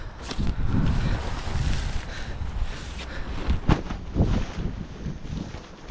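Wind gusts buffet the microphone outdoors at a camping show among pitched tents, a rough, uneven rumble that swells and drops with a few sharper thumps.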